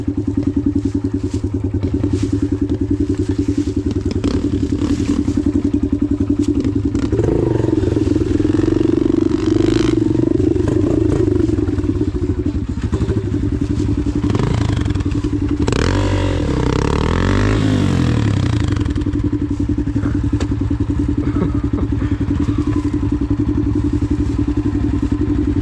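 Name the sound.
dirt bike engine revving while stuck in a creek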